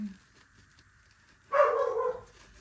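A pet dog barks once indoors, a short, fairly loud burst that stands out against a quiet room.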